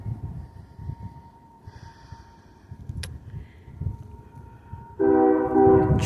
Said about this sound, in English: Train coming from that way.